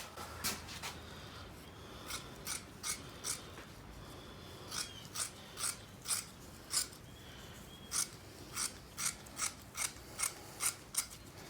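Metal shears snip through material in a steady series of crisp, close cuts, roughly two per second with brief pauses, over a faint background hum.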